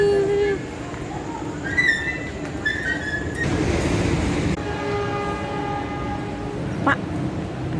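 A KRL commuter train at a busy Indonesian station, with loud rumbling, a sustained roar and squealing tones, plus a short horn-like blast near the end, under some background chatter.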